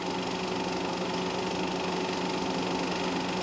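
Racing car engines, including a D production Porsche and other cars such as an Austin Healey and an Alfa, drone steadily at a distance, a continuous buzzing hum with no break.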